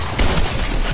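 Gunfire in a PS4 video game, a loud, dense burst of rapid shots filling a single second with no talk.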